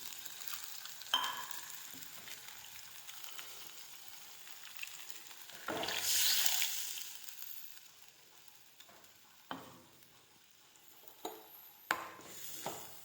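Ground masala paste hits hot oil with mustard seeds while tomato curry leaf chutney cooks. A soft background sizzle swells into one loud, hissing burst midway, then settles to quieter frying with a few clinks.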